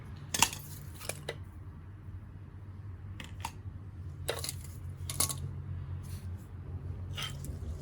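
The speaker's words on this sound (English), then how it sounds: "we'll cut the cable tie with our not so sharp pliers" Not-so-sharp pliers snip through a plastic cable tie on a Porsche Boxster S brake job, a few sharp metallic clicks and snaps scattered over a quiet garage background, no talking.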